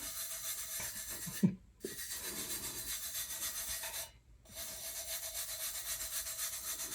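Two or three fingers burnishing a decal onto a cup, a soft continuous dry rubbing with two brief breaks, quiet and close, no talking.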